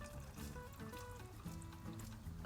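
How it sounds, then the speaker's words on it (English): Water and silicon carbide grit dumped from a rock tumbler barrel, a steady close trickling and splashing pour that runs continuously without talk. "let's dump this water and the silicon carbide"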